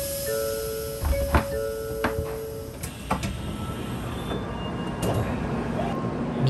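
A JR Kyushu train pulls out of a station bound for Kumamoto, with a rising electric motor whine, a clunk or two from the cars and a steady rolling rumble as it moves off.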